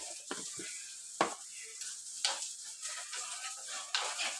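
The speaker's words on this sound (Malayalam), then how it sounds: "മല്ലിപ്പൊടി നല്ല മൂത്ത് വരുന്നത് വരെ ഇളക്കിക്കൊണ്ടിരിക്കുക" Coriander powder is stirred as it fries in a pan for a Kerala fish curry, a quiet hiss broken by soft scraping strokes and light taps of a spoon at uneven intervals.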